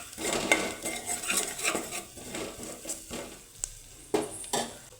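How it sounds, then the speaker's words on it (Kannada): Mashed lentils going into a pot of drumstick sambar on low flame, with a spoon clinking and scraping against the pot in repeated stirring strokes, close and moderately loud, with a faint sizzle and sharper metal knocks near the end; no talking. "ಸ್ಮ್ಯಾಶ್ ಮಾಡಿ ಇಟ್ಕೊಂಡಿರುವಂಥ ಬೇಳೆನ ಹಾಕ್ಕೊಳ್ತಾ ಇದ್ದೀನಿ"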